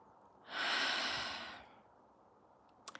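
A long, slow exhale of breath during a guided meditation, soft and close, swelling then fading over about a second, followed by quiet room tone and a couple of faint clicks.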